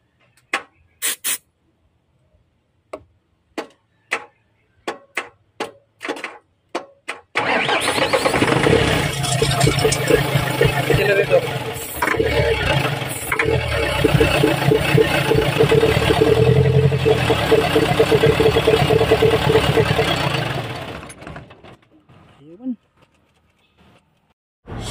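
An Isuzu 4HL1 diesel engine, converted from electronic to manual injection and left sitting for three years, starts after a series of sharp clicks. It then idles loudly and roughly for about thirteen seconds before dying away into quiet.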